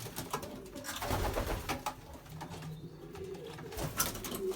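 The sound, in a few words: birds cooing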